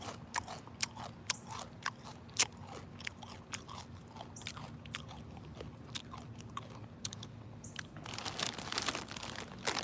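Close, crisp crunching and biting of extremely spicy Takis rolled tortilla chips, with steady irregular chews and occasional bag crinkles, growing busier near the end; no talking.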